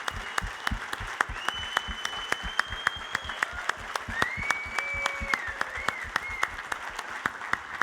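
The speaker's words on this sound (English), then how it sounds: "If you guys would stand up and give an outrageous, outrageous round of applause" Audience applause at a presentation, a steady wash of many hands clapping with sharp individual claps standing out, while whistles or whoops ring over it throughout.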